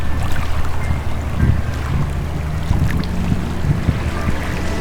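A motorboat cruising on a river and Lake Izabal in Guatemala, with a steady low engine drone and wind and water noise running continuously throughout.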